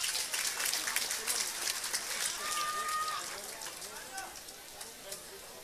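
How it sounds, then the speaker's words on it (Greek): Audience applause at an awards ceremony for Cretan artists held by the Mylopotamos association in Heraklion: dense, sustained clapping that slowly fades, with a voice heard over it. "Ένα χειροκρότημα στην Αποστολάκη τη Μαρία"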